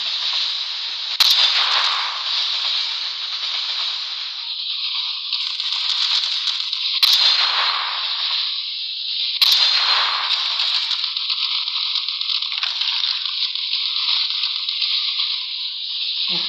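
Sniper rifle shots ring out in the video game Cover Fire, three sharp isolated cracks spread apart over a steady synthetic background drone and music.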